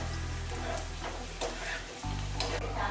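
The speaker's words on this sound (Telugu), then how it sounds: "ఇప్పుడైతే మనకి ఆనియన్స్ ఫ్రై అయిపోయినాయి" Onions and green chillies fry in a pan for a spicy prawn curry, making a steady close sizzle with a few stirring scrapes and a brief pause near the middle.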